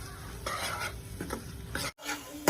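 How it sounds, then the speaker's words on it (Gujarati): Onion and tomato with a splash of water roasting in a pan while preparing filling for paneer-potato parathas, a steady soft sizzle under repeated stirring scrapes, close and moderate in level. "થોડું આપણે પાણી એડ કરીશું જેથી ડુંગળી ટામેટા સરસ રીતે શેકાઈ જાય"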